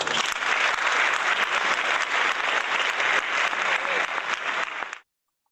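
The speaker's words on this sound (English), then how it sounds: "All our PRiME participants deserve a round of applause." Applause for the PRiME competition participants at the 2020 awards presentation: steady, dense clapping from a crowd, loud and continuous for about five seconds before it cuts off abruptly.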